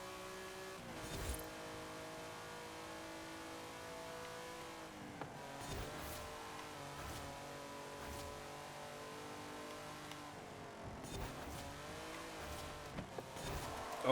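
A Lamborghini in a racing video game slides around corners, its engine droning steadily with shifting revs and occasional tire scrub, loud and continuous with game music-like tonal layers throughout.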